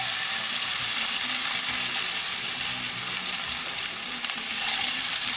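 Small pieces of chopped potato are added to garlic frying in olive oil, producing a loud, dense, continuous sizzle that holds steady throughout.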